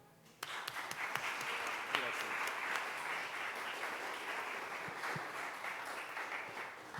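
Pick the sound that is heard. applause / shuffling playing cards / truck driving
applause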